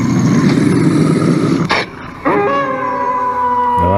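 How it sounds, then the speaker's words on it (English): A werewolf howl plays from a Google Home Mini smart speaker as a long, rising and sustained tonal wail. A short gap breaks it partway through, then the howl continues loud and close. "A werewolf sounds like this."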